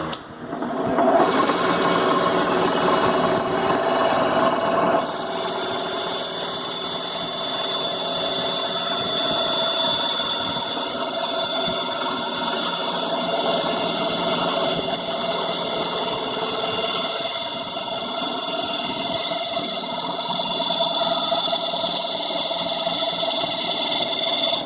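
A power tool cuts notches into a ladder during a repair, making a steady, loud, continuous whine and buzz that runs without a break for about 25 seconds. No one talks over it.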